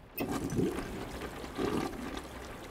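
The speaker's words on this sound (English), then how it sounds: "Yay, we can flush the toilet." A toilet flushing in the horror video game Layers of Fear: a steady rushing gurgle of water, fairly close, with two surging swells over a continuous flow and no talk.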